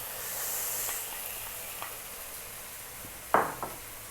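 Corned beef sautéing with tomatoes in a pan, a soft steady sizzle with a few quiet utensil clinks and one sharper scrape of a spatula against the pan near the end.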